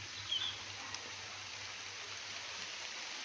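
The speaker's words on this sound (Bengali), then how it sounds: "দেখছেন বৃষ্টি পড়ছে" Rain beginning to fall outdoors near a garden with a flowering kamini tree, a steady soft hiss of drops spread evenly and continuously, fairly faint and without talk.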